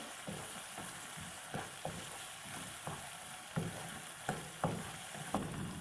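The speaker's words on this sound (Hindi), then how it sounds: "बस इसको इसी तरह इसको भूनते रहेंगे" Aloo palak of potato and spinach sizzles softly in a pan while a spoon scrapes through it, with a steady low frying hiss broken by regular sharp stirring knocks about once a second.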